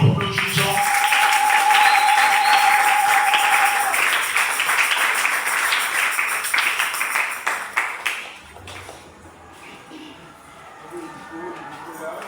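Applause from a French-speaking church congregation, dense and sustained for about eight seconds before thinning into scattered claps, with voices mixed in.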